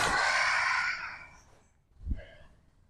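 Long breathy exhale during a sun salutation yoga sequence, close and fairly soft, fading out over about a second and a half, followed by a brief low thump or short breath.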